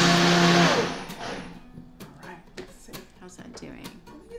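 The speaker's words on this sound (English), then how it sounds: "You have a Vitamix? I love the Vitamix." A Vitamix blender whirs loudly while mixing a banana smoothie, then cuts off, leaving kitchen clatter and people talking.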